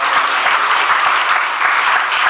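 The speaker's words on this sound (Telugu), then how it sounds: "నా మాటలు అర్థమైతే ఒకసారి గట్టిగా చప్పట్లు కొట్టి దేవుని మహిమపరుద్దాం." Loud, dense applause from a church congregation during a Telugu sermon, steady and sustained throughout with no pauses, with no voices heard.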